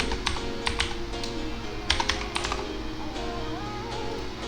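Keys clatter in quick bursts on a computer keyboard while a rig name and password are entered for crypto mining setup, close and fairly loud over a steady low hum, with short pauses between runs of typing.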